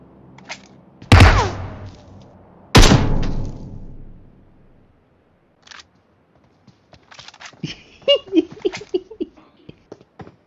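Gunfire in the mobile battle-royale game PUBG Mobile: two loud, sharp bursts close together, each trailing off, then a few faint pops and scattered clicks and rattles of game effects.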